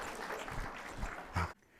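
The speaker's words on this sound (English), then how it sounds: "Give them a round of applause." A Women's Institute audience at a book talk breaks into applause, a moderate spread of clapping that swells briefly before cutting off into quiet.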